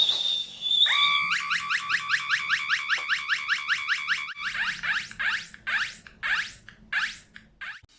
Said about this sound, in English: the Funny Bird kit is an enchanting electronic bird that chirps in response to your whistles